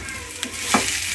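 Asparagus tossed into a hot pan with black pepper and salt crackles in a soft, steady sizzle, with a couple of quick clinks from a stirring utensil.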